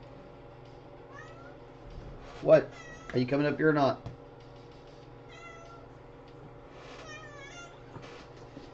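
A house cat meows indoors during a live painting session, giving a few distinct drawn-out meows in quick succession, close by, with a person talking to it before and after.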